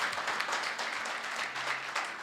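A church congregation breaks into applause during a sermon, a dense, steady wash of clapping from many hands that holds evenly throughout without fading.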